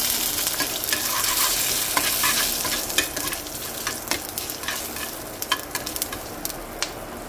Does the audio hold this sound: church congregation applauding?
no